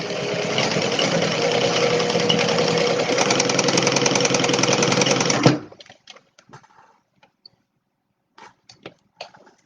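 A sewing machine stitches a Stella Weekender bag near its D-ring, running in one steady, fast, close whirring burst for about five seconds before stopping, followed by a few faint clicks and handling sounds.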